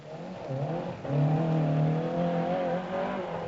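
Mercedes rally car on the Safari Rally route in the hills, its engine revving and droning loudly with rising and falling pitch as it climbs, close and steady throughout.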